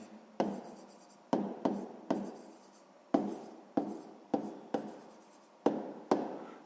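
Pen strokes on paper while working a sixth-grade math exercise: about ten sharp, separate scratches in an uneven rhythm, each fading quickly, close and clear with no voices.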